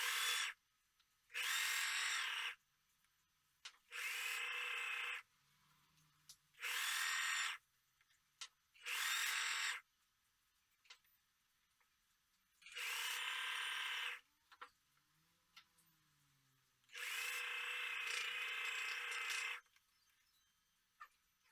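A sewing machine stitches the seam of a zippered pillow in short bursts of fast, buzzing running, separated by quiet pauses. The machine is close and sounds loud against the silences between bursts.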